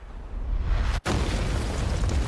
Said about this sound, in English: Also explosions.